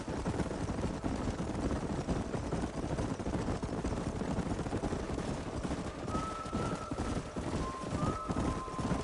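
A herd of horses gallops steadily in the Red Dead Redemption video game, with dense, continuous hoof clatter under a rumbling outdoor mix and a faint, high, whistle-like tone near the end.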